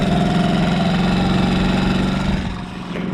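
A small Honda P50 moped's OHV engine, mounted in the wheel, idles with a fast, even putter, steady and close, easing slightly quieter near the end.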